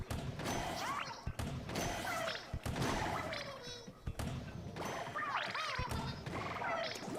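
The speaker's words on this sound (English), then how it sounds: "We have another little cannon here, so let's blast some Octanians." Cannon blasts in the Splatoon video game fire at Octarian enemies: a series of short, punchy thuds recurring every second or so, layered over busy game effects and character vocal sounds.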